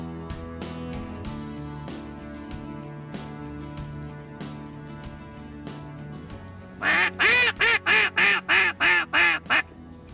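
A duck call blown during a waterfowl hunt gives a run of about nine loud, evenly spaced quacks near the end. Steady tonal background sound fills the earlier part.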